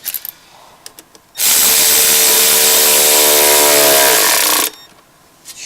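A power tool tightens exhaust manifold bolts on a 2005 Chevrolet Trailblazer in one loud, continuous whirring burst of about three seconds, with faint clicks and handling noises before and after.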